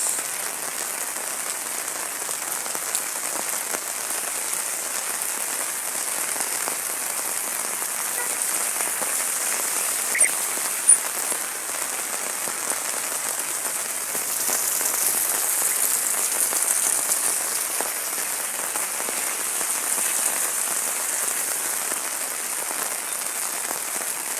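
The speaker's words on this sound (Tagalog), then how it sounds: "Inabot tayo ng ulan" Steady, dense rainfall hissing without a break, heavy and close, heard under an umbrella in Manila, with a few louder drops or taps standing out partway through.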